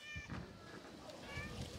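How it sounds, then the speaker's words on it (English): A noisy male cat meows several times at close range, drawn-out and tonal, with a person's voice mixed in around the calls. "He's a noisy cat."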